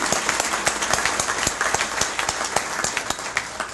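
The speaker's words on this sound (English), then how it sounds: "Let's give everyone a round of applause," Lunch audience applause at a chamber of commerce event, a moderate round of clapping with distinct individual claps standing out, steady across the moment.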